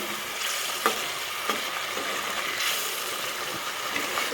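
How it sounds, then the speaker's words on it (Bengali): Tengra fish tel jhal gravy in a pan bubbles with a steady broadband sizzle, a few faint clinks of a utensil breaking through near the start and middle. "তো ঝোলটা আমি ফুটিয়ে নেব"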